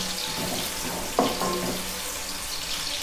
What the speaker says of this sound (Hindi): इसके बीच में मैं डाल दूँगी प्याज। इसे मैं फ्राई कर लूँगी